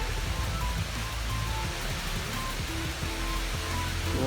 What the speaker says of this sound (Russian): А вот это водопад.